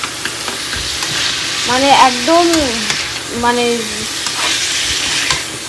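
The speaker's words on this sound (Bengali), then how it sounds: "এই যে এখানে আছে গাজর, রেড বেল পেপার, আর এখানে আছে ব্রোকলি, তো এগুলো এখন ভাজা করে নিচ্ছি" Carrots, red bell pepper and broccoli stir-frying in a pan, giving a steady sizzle with scraping stirs throughout, while a voice briefly speaks over the middle.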